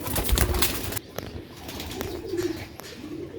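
Pigeons cooing close by in a loft, soft low coos with rustling and a burst of flapping near the start, then quieter repeated calls.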